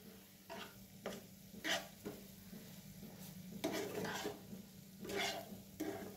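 Paneer pieces fry in ghee with sugar, a steady low sizzle broken by repeated scraping stirs of a spoon against the pan, close and moderately loud, with no talking.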